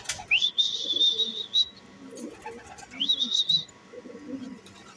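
Pigeons arriving at their loft, with repeated whistling calls and soft bird sounds, two clear whistles over faint background murmurs.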